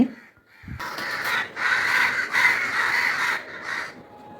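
A large flock of crows perched in a big tree caw together. After a brief quiet moment, loud overlapping calls swell into a dense, continuous chorus with short dips between bursts.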